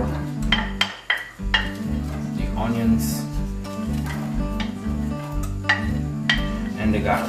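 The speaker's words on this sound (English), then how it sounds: "We're gonna saute the onions a little bit and the red pepper." Onions, red pepper and garlic sauté in olive oil in a pan, with clinks of a utensil on the cookware and a soft sizzle throughout. Someone talks over the cooking.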